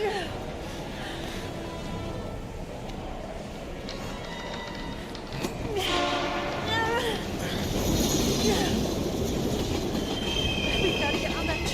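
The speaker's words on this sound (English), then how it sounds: "We gotta get on that train," Train in the video game Heavy Rain, a loud rolling clatter with squealing wheels that swells and grows more intense toward the end, while voices speak urgently over it.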